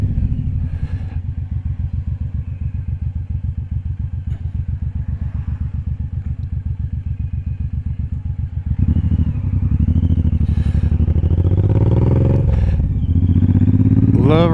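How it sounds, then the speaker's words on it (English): A Suzuki M109R cruiser motorcycle idles with a loud, steady, close-up rhythmic thump, then accelerates into a louder roaring ride with shifting engine pitch and wind rumble. "Love riding a motorcycle."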